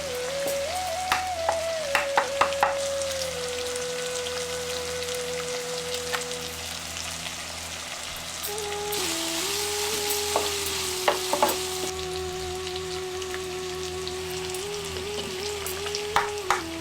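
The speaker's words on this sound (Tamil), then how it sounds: "இப்ப உப்பு சேர்த்து வெங்காயத்தை நல்லா வதங்க விட்டுட்டு" Onions with salt sauté in a pan for a village-style egg curry, a close, steady sizzle and fry with occasional scrapes and stirring clatters throughout.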